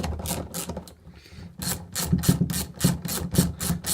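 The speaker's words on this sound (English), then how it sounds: "So to remove the fuel rail, pretty simple, just 3 M8 bolts." A hand tool loosens M8 bolts from the fuel rail of a Honda CBR929RR SC44 turbo build, giving close, quiet rasping bursts in a steady repeating rhythm with a short pause partway through.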